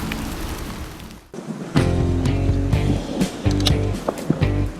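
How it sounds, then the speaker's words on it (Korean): Rain falls at a bass fishing spot, a close, steady hiss laced with sharp patters and drops, dipping briefly before returning louder and fuller. "필드 딱 도착하자마자 이렇게 비가 내리네"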